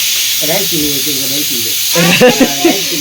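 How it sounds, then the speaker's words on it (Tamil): Kara kuzhambu curry sizzles in a pan as it is stirred, a steady bright frying hiss running beneath voices that talk over it from near the start to the end. "நான் அப்படிதான் கிளறி விடுறேன்"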